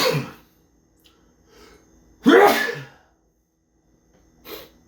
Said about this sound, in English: I think I'm gonna have to sneeze before I do this